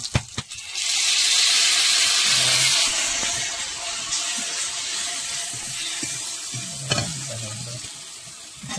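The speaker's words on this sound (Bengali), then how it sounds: "এখন এটা হালকা করে একটু ভেজে নিতে হবে, একটু লবণ আর হলুদ দিয়ে" Small fish coated in ginger, garlic and chili paste sizzle steadily in a hot pan, a loud continuous hiss with occasional scraping and stirring clicks, no voices over it.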